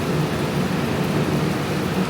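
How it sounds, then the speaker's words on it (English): Steady rain pours outdoors on a cattle ranch during a cold spell, a dense continuous hiss close by with no pauses and no voices. "you can hear and probably see that it started to rain"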